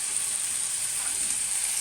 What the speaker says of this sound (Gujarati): અહીંયા જુઓ બટાટા મસ્ત મજાના ફ્રાય થઈ રહ્યા છે, એકદમ કડક